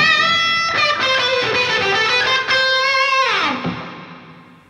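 An electric guitar plays a sustained lead line with overdrive and reverb through a Headrush Gigboard, loud and close, ending on a bent note that decays into a fading reverb tail.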